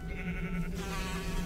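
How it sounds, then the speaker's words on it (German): A single sheep bleat from Minecraft, a short wavering call heard fairly faintly over a low steady background, with no talking. "Und Schafe scheren."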